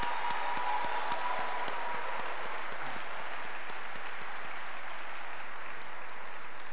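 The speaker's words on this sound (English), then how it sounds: "May I request the audience to give him a real loud noise of applause?" An audience claps in a steady, dense round of applause, filling the space evenly from start to finish at moderate volume, with no cheering or voices standing out.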